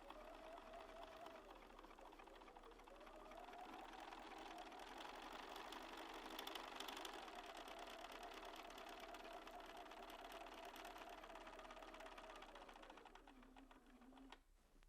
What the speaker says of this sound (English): I'm sewing 1/4 of an inch away from the line.